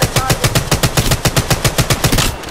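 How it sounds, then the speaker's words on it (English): Rapid automatic gunfire from the Apex Legends Mobile battle royale game rattles out in a loud, even stream of roughly twenty evenly spaced shots, stopping just before the end. "Stop, I'm getting shot at."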